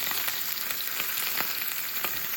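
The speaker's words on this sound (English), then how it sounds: "all you're hearing is the noise from the frying pan" Food fries in a pan on an induction hob, a steady soft hiss and crackle with small pops, fairly quiet and continuous, with no voices.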